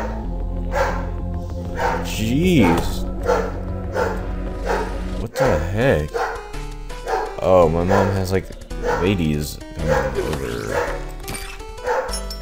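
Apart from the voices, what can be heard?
dog barking excitedly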